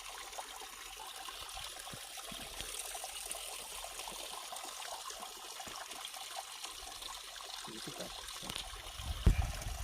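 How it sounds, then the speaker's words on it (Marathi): A mountain spring stream flowing year-round from the hills near Vhanali, Kagal, Kolhapur: steady, faint trickling and babbling water, continuous and soft, with a slightly louder splash near the end. "या ठिकाणी हा झरा आहे"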